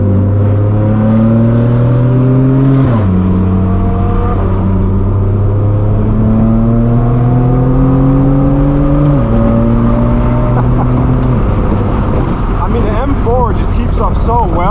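A straight-piped BMW M4 F82 accelerates hard with a loud, raw exhaust, engine pitch climbing through several gear changes with brief dips between shifts, close and continuous over nearly fifteen seconds, with a driver talking over it.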